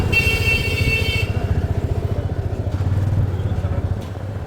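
A Yamaha FZ 25 motorcycle engine putters close by in quick, steady pulses as the bike rides along, with a brief louder rev partway through.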